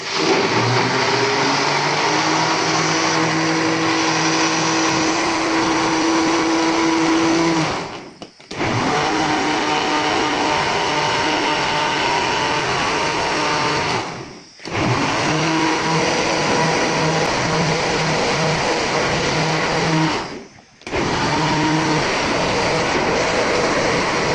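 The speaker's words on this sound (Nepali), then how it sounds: "त्यसपछि हजुरहरूले यसलाई ग्राइन्डर गर्नु होला।" A kitchen grinder whirs loudly as it blends banana, curd, sugar and cold water into lassi, running in four long bursts split by three short stops.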